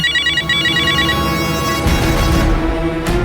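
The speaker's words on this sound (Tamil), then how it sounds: "யாரா ஃபோன் பண்ணுறது?" A mobile phone rings with an incoming call in a Tamil TV serial scene, a loud electronic ringtone repeating in short bursts over background music, with no talk.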